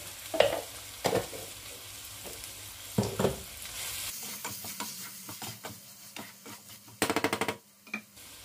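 Oil sizzles and crackles in a pan as turmeric and salt are added, with bursts of stirring and scraping, the frying steady and close, with sharp clatters near the end.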